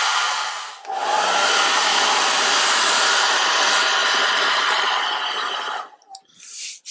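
Hair dryer blowing over a watercolour painting of a Dutch landscape, a loud, steady whoosh that starts after a brief pause, runs for about five seconds, then cuts off with a few short blasts.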